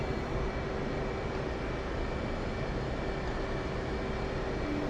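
Steady, continuous roar of an F/A-18 jet engine throttling up during taxi in a flight simulator, a broad even rumble with a faint tonal whine, holding level with no speech.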